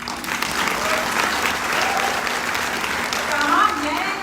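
Dense, steady applause from a large seated audience at a direct-selling business seminar, sustained and evenly textured throughout with no break, filling the room at moderate loudness.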